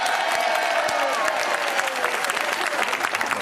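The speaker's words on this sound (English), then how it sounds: "who thinks Bob has the best cake today?" A live audience at a comedy cooking challenge applauds steadily to vote for a cake, a dense clapping crowd that stays strong throughout.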